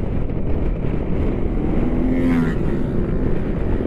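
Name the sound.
motorcycles riding in a group, Yamaha MT-15 or Sniper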